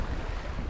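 Wind rushes and buffets a microphone while sailing near the Great Barrier Reef, a steady broadband roar with water noise, brief and alone.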